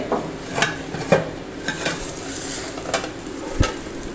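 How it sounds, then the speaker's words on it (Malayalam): Mixed omelette frying in a pan, with a soft steady sizzle broken by a few sharp clinks and knocks as a plate is handled to flip it; no talking. "നമ്മൾ ഓംലെറ്റിൻ്റെ അടിഭാഗമൊക്കെ ആയിട്ടുണ്ടാവും ഇനി നമ്മളതൊന്ന് മറിച്ചിടണം അപ്പോൾ അതിനെ ഒരു പ്ലേറ്റ് വെച്ച്"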